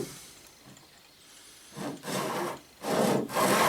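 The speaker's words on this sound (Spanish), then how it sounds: "con un serrucho de costilla, lo pasamos" A back saw drawn by hand across a guitar fretboard blank, cutting a fret slot in the wood: a quiet start, then three loud, rasping strokes growing stronger toward the end, close and alone.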